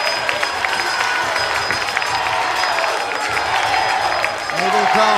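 An indoor hockey crowd at a men's U21 EuroHockey match between Austria and Switzerland roars and claps after a goal, a dense, sustained cheer with a commentator talking over it.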